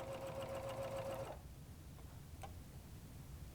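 A serger sewing machine runs fast through fabric with a steady mechanical whir, then stops after about a second. Faint room hum and a few small clicks follow.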